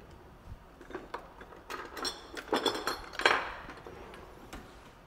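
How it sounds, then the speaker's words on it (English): A metal spatula pushes a solid down into a glass tube for fractional distillation. It makes faint, irregular clinks and scrapes that grow busier and louder toward the middle, close up and with no talk. "So with the end of the spatula, I'm going to push this down into the tube."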